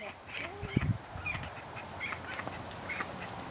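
Ducks near a fence quack in short, scattered calls at close range, with a few honking notes and faint voices in the background.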